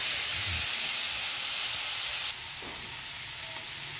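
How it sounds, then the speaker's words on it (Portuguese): Chopped onion and garlic frying in a pan, a steady loud sizzle and hiss that drops to a softer crackle partway through. "já deu uma fritadinha na cebola no alho"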